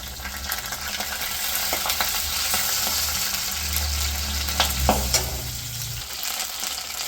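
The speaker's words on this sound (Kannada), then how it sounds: "ಹಸಿರು ಮೆಣಸಿನ್ಕಾಯಿ ಫ್ರೈ ಮಾಡ್ಕೊಬೇಕು" Green chillies frying in hot oil for a radish and curd sambar, with a continuous close sizzle, occasional stirring scrapes and brief pops, fairly loud, with no talking.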